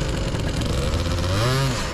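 A Gilera Runner scooter fitted with a Malossi kit revs unevenly, a fluttery, uneven engine note that climbs and wavers, close and steady with no talk.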